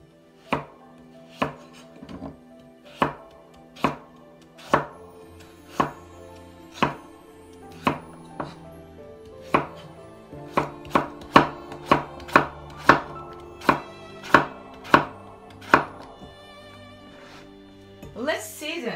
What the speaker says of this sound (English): Cut in strip.